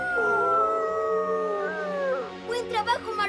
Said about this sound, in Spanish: ¡Eso suena como otro lobo!